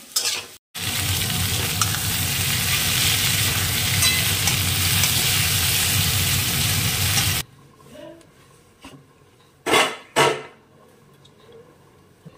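Potato and cauliflower sizzle loudly and steadily in a hot pan for several seconds, then stop, followed by a few scraping clatters of utensils.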